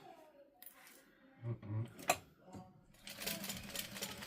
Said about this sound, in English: You're going to backstitch well at both ends